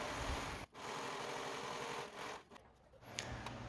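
A serger overlocks the raw top and bottom edges of an Ankara kente skirt for a girl. It gives a faint, steady mechanical whir with two brief pauses, and no voices are heard.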